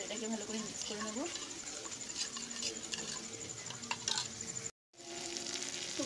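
Spice paste (masala) fries in a pan with a soft, continuous crackle and scattered ticking pops, fairly quiet, and a voice-like tone hovers in the background.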